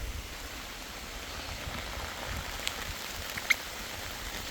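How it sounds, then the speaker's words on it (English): Rain patters steadily on a Decathlon pop-up tent, a soft continuous hiss with a couple of louder individual drops striking the fabric close by. "Can hear the rain hitting the top of the tent"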